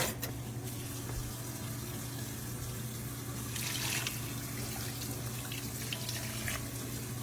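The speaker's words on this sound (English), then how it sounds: "and then I add a little bit of water to them" Water runs steadily from a tap into a cast iron skillet holding sausages, a continuous close splashing stream that shifts slightly in tone as it fills.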